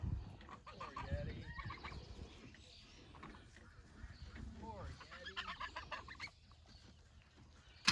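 Geese in a farm paddock honk and cackle in several uneven bursts, fairly faint and scattered, with quieter gaps between calls.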